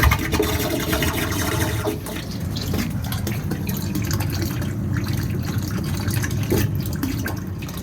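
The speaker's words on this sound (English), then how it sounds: "So we're gonna pull it and bleed till we get water." Air and water bleed from an open plug high on a boiler system's cooling tower as a steady, loud rushing hiss with gurgling spurts, continuous throughout and without speech.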